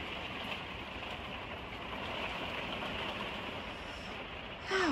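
Steady rain falling during a winter storm, a dense even hiss of drops that continues unbroken, fairly faint and close, with no talking.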